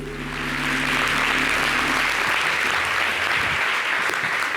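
A studio audience applauds loudly and steadily for several seconds, a dense wash of clapping that starts under fading music and carries on alone.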